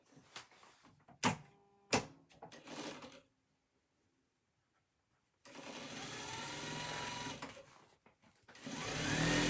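A sewing machine sewing a quilt block runs in two steady whirring bursts after a few clunks and handling knocks, with a short silent gap between runs.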